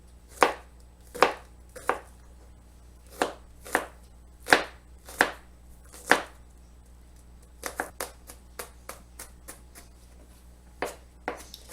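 A knife chops rapidly through a large garlic clove on a cutting board, sharp crisp taps in steady bursts, first spaced strokes then a quicker run of lighter cuts, close and clear with no talk.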